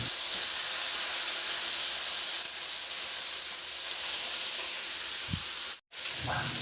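Pork liempo frying in a pan gives a steady, close sizzle and hiss that holds at one level. A short gap in the sound comes near the end, with no talking.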